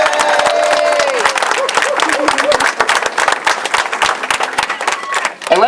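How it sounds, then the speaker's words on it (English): Crowd applause at a Walk to End Alzheimer's event, dense and sustained clapping with scattered cheers and voices mixed in, loud and close throughout. "Let's give them a big round of applause."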